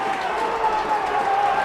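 Crowd at a 2017 All-Ireland Junior Cup rugby final reacting to a successful kick, a steady broad roar of cheering voices that holds at a fairly even level throughout with no clear breaks.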